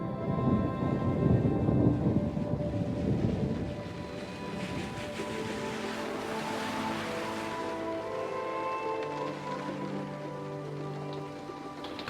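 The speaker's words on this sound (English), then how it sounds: "Oh, that's the roof with the rain." Rain drums steadily on the roof of a motorhome parked in Bristol, a dense patter that is loudest at the start, then eases into a softer, even hiss with low rumbling beneath.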